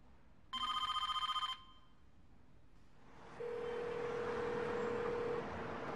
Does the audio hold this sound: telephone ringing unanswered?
yes